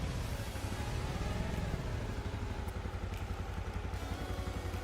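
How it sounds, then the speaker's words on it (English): A tractor drives in the Farming Simulator 25 game, giving a steady, continuous low engine rumble with a mechanical rattle that holds at an even level throughout, with no talk. "I'm gonna get this tractor back first."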